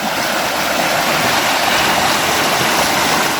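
A forest stream flows and rushes continuously, loud and close, with a steady broadband splashing hiss and no voices.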